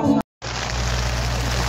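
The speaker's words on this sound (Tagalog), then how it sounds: "Lakas ng ulan, guys." Heavy rain pours in Majayjay, Laguna, a loud steady roar with a deep low rumble that carries on without a break after a brief cut, and a voice is heard at the very start.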